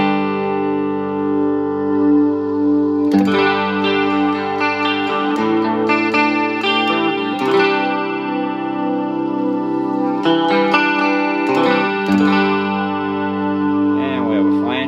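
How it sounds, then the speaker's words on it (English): An electric guitar played through a Yamaha THR10II amp with the chorus effect on gives shimmering, wavering chords and notes, while a person talks over the playing. "Okay, so we also have chorus."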